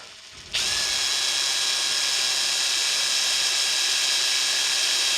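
A close power drill starts abruptly and runs at a loud, steady whine for several seconds, grinding continuously into the middle of a small wooden box without pause.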